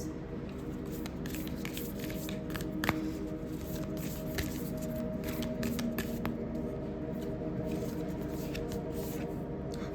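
Tarot cards are shuffled steadily for several seconds, a soft, continuous papery riffle close by over a low hum, with no voice.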